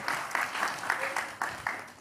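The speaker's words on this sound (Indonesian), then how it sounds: "Kita berikan tepuk tangan dulu." A small audience at an Indonesian public talk gives brief applause, heard as a few distinct bursts of clapping in an uneven rhythm, fairly close and moderately loud.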